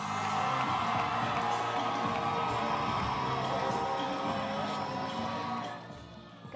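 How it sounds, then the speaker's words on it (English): A television pageant audience at the Ghana Most Beautiful 2021 grand finale applauds and cheers for a contestant, a loud sustained roar of clapping and whoops from a large crowd that fades near the end. "let's welcome, with a round of applause, our first contestant for this round"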